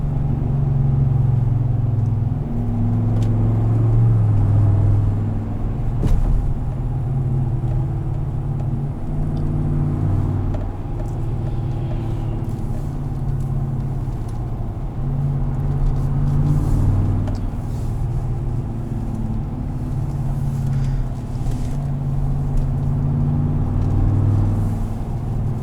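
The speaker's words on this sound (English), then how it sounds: "but you will get some good burbles." A 2017 GMC Sierra 1500 SLT pickup idles with a low, steady exhaust burble, rising now and then into brief revs, continuous and close throughout.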